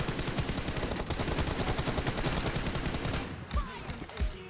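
Rapid bursts of automatic gunfire from the mobile battle-royale game PUBG Mobile rattle loudly and continuously for about three seconds, then give way to a couple of isolated thumps.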